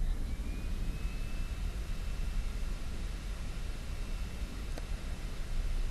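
A heat gun blows steadily while setting clear embossing powder on a stamped card, a constant close broadband whoosh like a small fan roaring without pause.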